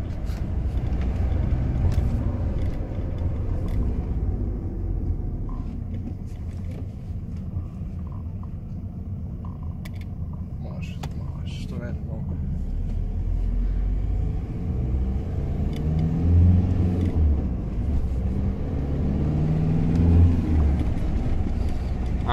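A car engine revs and accelerates on the road with a steady loud rumble that swells in the second half, no talk over it.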